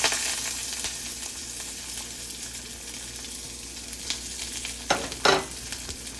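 Chopped onion, green chilies and curry leaves sautéing in a pan, a continuous close sizzle with a few louder spoon scrapes and clatters toward the end.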